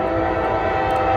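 A train horn or whistle sounds loud and steady at a railway crossing on an Appalachian Trail hike, one continuous tonal blast with no talk.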